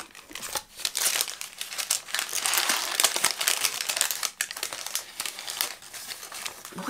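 Crinkly packaging from a Lush product being unwrapped up close, a dense run of sharp crackling and rustling bursts that rise and fall, with no talking.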